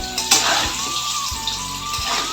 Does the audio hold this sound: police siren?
no